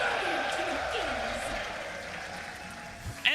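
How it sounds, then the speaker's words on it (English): A large crowd at a Dota 2 esports tournament roars and applauds in a dense, sustained wash that slowly fades, with a commentator talking over it. "The crowd is going to cheer so loudly when it's in his inventory."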